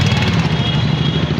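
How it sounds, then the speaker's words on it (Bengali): A vehicle pulls away from a green signal at Mohona bus stand in Berhampore, its engine giving a loud, steady low hum with a slight rhythmic pulse throughout. "গাড়ি এখন চলতে শুরু করলো।"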